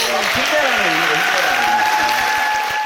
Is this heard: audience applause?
yes